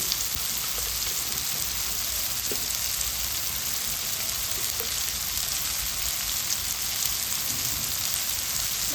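Turmeric and ground spices fry in a pan for bitter gourd dolma, giving a steady, dense sizzle that holds evenly throughout with no talk.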